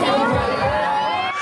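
A crowd greets Monica Bellucci in the streets of Taormina, Sicily, with a dense wash of cheering, chatter and children's shouts, steady and close throughout.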